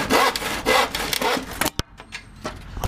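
Hand saw cutting through pallet wood in steady back-and-forth strokes, loud and close, ending abruptly in a sharp crack before a few quieter rasps and knocks.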